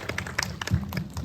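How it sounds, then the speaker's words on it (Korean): Scattered hand claps and light thumps from an audience applauding at a film screening Q&A, a short patchy burst of close clapping. "다시 한번 박수 부탁드립니다"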